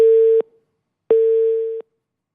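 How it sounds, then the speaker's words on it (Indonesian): A telephone busy tone sounds loud and close as a phone connection drops during a news broadcast, two steady beeps separated by a short silence. "kami sambil terus perbaiki hubungan sambungan telepon dengan pengamat politik Adi Praitno"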